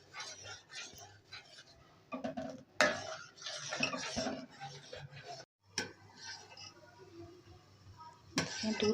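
Milk being stirred in a pan with tartaric acid so that it curdles, for a carrot barfi, with a spoon scraping and clinking against the pan in bursts and someone talking over it throughout.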